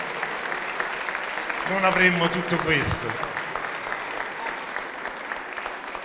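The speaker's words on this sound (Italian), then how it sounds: "A loro facciamo l'applauso più grande" An audience at a school performance applauds the kindergarten teachers with sustained clapping throughout, while someone speaks over it near the middle.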